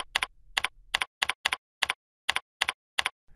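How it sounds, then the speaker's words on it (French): Crisp computer keyboard keystrokes click in a quick, uneven series of about a dozen presses, close and alone, as a formula is typed and Enter pressed. "nous appuyons sur la touche Entrée du clavier pour valider"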